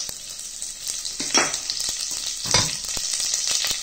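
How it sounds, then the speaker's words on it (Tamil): Curry leaves crackle and sizzle in hot oil for a horse gram curry, a close, steady frying hiss with two louder bursts of spitting and the scrape of stirring. "கருவேப்பிலை பொரிஞ்சிடும்."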